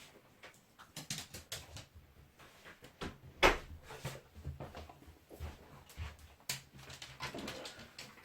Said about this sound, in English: I've just got to let the dog in. He's barking.